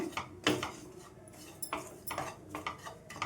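Dry coconut and semolina roast in a pan while being stirred, giving faint, irregular scraping and clinking strokes of a spoon against the pan, several in quick succession.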